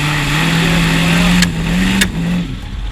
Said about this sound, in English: That rev just really pulls the whole bike over.